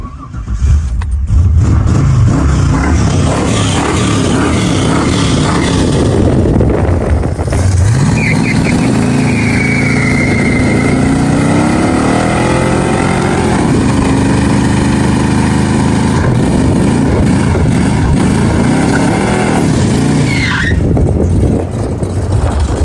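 An LS-swapped, carbureted 1980 Fox body Mustang engine idles loudly and close, then revs up in a long rising pull, holds high, and drops back to a rough idle, with no talk over it.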